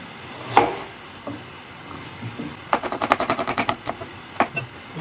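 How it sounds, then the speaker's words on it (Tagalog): A knife chops ingredients for kinilaw na tahong, mussels prepared with onion and ginger, striking a board close up in a quick run of sharp, evenly spaced hits after a few scattered cuts. "Hiwain naman natin yung kanyang mga sangkap."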